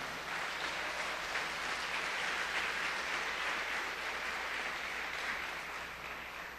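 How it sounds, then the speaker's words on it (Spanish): A church congregation applauds the Lord in a sustained, dense burst of clapping that holds steady for several seconds before tapering slightly at the end. "Dale un fuerte aplauso al Señor"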